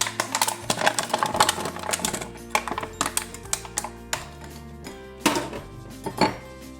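Brined black olives tumble out of a container in a series of sharp, hard clattering knocks and rattles. The impacts are close and bunched, with brief pauses between bursts.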